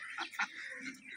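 Ducks quacking close by, several short nasal calls in quick succession, with no talking.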